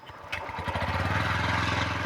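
A 2025 Bajaj Pulsar N125 with an underbelly exhaust fires up, then settles into a smooth, even idle, its rhythmic low putter close and steady.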